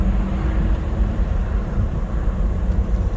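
Aston Martin DB9 engine droning steadily after a downshift into fourth gear while driving, a continuous low rumble with road noise throughout and no speech.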